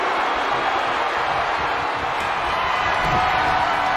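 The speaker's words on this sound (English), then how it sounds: "What a raucous crowd here tonight." Wrestling arena crowd roaring during a championship match, a steady, dense wall of cheering and shouting that holds loud and unbroken throughout.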